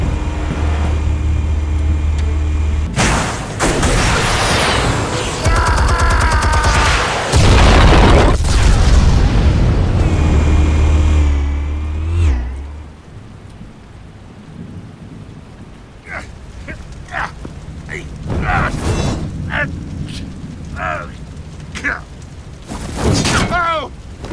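Explosives detonating in the video game Batman: The Telltale Series produce heavy, rumbling booms with a loud low roar for the first half, then quieter scattered impacts and game sound effects.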